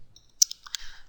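Several sharp computer mouse clicks in a quiet room while working in Photoshop, close and distinct, a few separate taps in quick succession with no talking.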